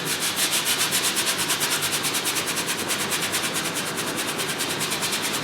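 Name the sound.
brush scrubbing paint onto canvas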